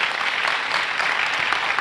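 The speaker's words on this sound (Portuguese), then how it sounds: "Quem pode aplaudir a Deus porque recebe isso na sua vida?" A church congregation claps together in a brief, dense burst of steady applause that fills the room.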